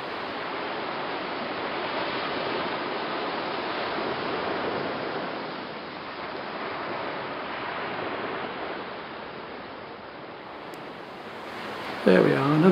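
A human voice imitates wind and ocean surf on a beach: a steady, close breathy rush of noise that swells and eases gently for about twelve seconds, then a brief sharper sound at the end.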